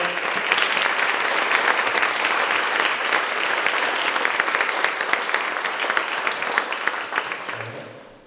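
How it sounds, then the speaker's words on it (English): A community foundation meeting audience gives a sustained round of applause for the organizing group, with dense clapping holding steady for several seconds before tapering off at the end. "let's give these people a round of applause"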